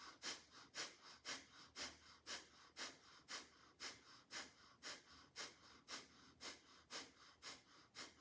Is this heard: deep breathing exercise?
yes